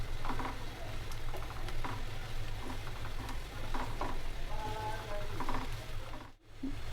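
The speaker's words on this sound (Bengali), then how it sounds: "রসুন আর পেঁয়াজটা আমি সামান্য ভাজা ভাজা করে নিব।" Chopped garlic and onion fry lightly in a pan for a dried-fish and pumpkin-leaf dish, giving a steady close sizzle with occasional stirring scrapes and a brief dip near the end.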